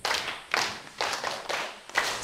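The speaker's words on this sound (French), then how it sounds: "Applaudissez pour elle." A small group of children clap in a few loose bursts, about five rhythmic rounds of hand claps spaced roughly half a second apart, close and fairly clear in an outdoor setting.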